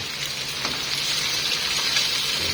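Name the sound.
pork liver sautéing in a pan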